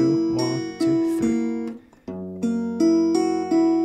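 Barre chord fingerpicking on guitar from the STALKER tune: two phrases of ringing plucked notes separated by a short pause, clear and close with no voices.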